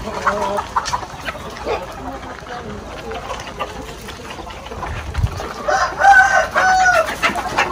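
Free-range chickens cluck around a farmyard with hundreds of hens while a rooster crows near the end, with a person speaking over the birds, in Malaybalay City, Bukidnon.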